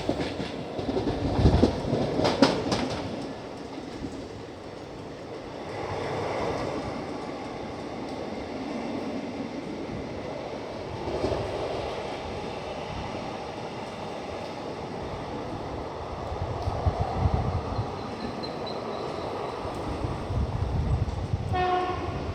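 The Nandigram Express passenger train rolls along the line toward Mumbai with a continuous rumble and rhythmic wheel clatter heard from on board, while a horn sounds faintly in the distance in the later stretch.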